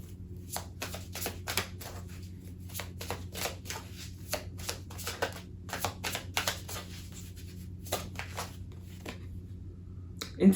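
Tarot cards are shuffled and drawn from a deck, a steady run of close, crisp riffling flicks and slaps that repeat irregularly against a quiet room hum.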